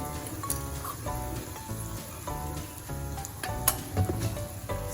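A piece of cinnamon drops into hot oil while cooking Gujarati turiya (ridge gourd) shaak, giving a steady close sizzle with crackling pops that runs throughout, faint and without talk.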